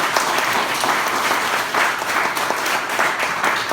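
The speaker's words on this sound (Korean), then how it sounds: "다 같이 박수로 축하드립니다." A church congregation applauds at a merger service, with dense, loud, continuous clapping from a large crowd that lasts throughout and has no voices over it.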